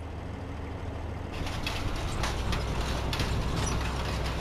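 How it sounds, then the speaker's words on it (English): Russian round baler with its pickup running in Farming Simulator 15, pulled by a Claas Axion tractor: an engine drone that jumps louder when the pickup starts, then a steady mechanical whir with a rhythmic rattling clatter. "Turn on the baler, lower pickup."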